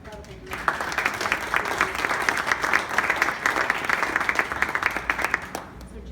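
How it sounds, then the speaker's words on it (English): An audience at a children's charity golf event gives a round of applause, a sudden, full burst of steady close clapping that swells, holds for several seconds and then fades out. "And again, just one more round of applause for this incredible group."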